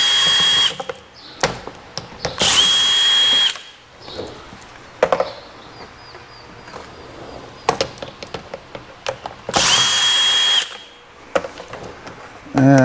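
A cordless power drill spins screws out of a Toyota Tacoma front air dam, several loud whirring bursts of about a second each, close up, separated by clinks and handling noise.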